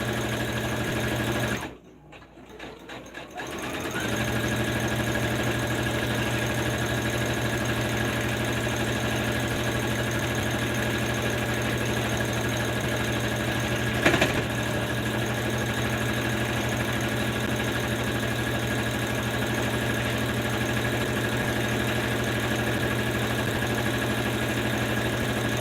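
A sewing machine top stitching a bandana babydoll tank top, running steadily and close by with a constant mechanical hum. It pauses briefly near the start, then runs on without a break.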